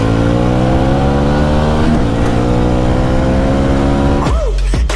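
A fuel-injected ABS Apache RTR 4V or Gixxer motorcycle engine revs loud and close in a steady sustained drone, dropping sharply near the end with a brief falling whine.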